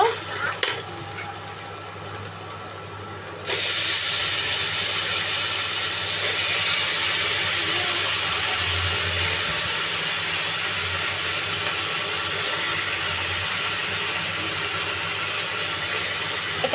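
Flat beans and potato fry in a pan with turmeric, chili and onion, a loud steady sizzle and hiss that surges up a few seconds in and holds without a break, with faint stirring beneath it.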